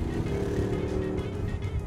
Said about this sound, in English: that engine is so dreamy